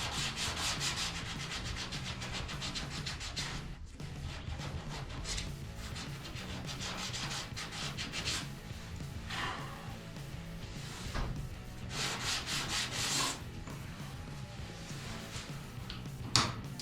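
Repeated hand sanding of body filler on the roof of a 1981 Monte Carlo during repair, a steady scratchy rubbing in long back-and-forth strokes with brief pauses, close and loud with no talking.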